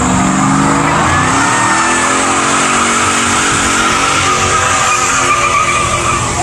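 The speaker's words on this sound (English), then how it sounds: "They started drifting safely." A truck drifting at a car show around Lake George, its tires squealing in a sustained loud, harsh screech with engine roar underneath, continuous and close throughout.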